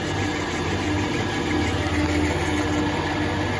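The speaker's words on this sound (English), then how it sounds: "Get your lathe on." A lathe turns a metal bush for a Harley touring frame front stabiliser, giving a continuous, steady machine hum with light vibration throughout, close and unbroken, with no voices.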